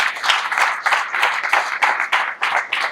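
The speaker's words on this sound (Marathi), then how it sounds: "एकदा जोरात टाळ्या व्हायला पाहिजे." Audience applause in a hall during a speech on the Indian Constitution, a dense steady burst of many hands clapping lasting throughout, fairly loud with rhythmic swells.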